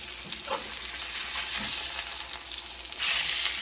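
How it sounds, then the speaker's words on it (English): Garlic butter stuffed pork chops sear in a hot pan with a steady, close sizzle that swells louder near the end. "So what I'm going to do is flip these over."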